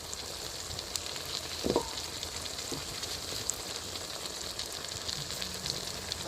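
Mushroom chilli sauce sizzles in a pan just after tomato sauce goes in, a steady crackling fry with a short stirring scrape near the start, continuous and close.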